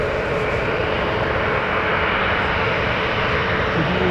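A Ryanair jet airliner at Birmingham Airport, its engines producing a steady, loud, broadband roar that holds even throughout, close by and without talk.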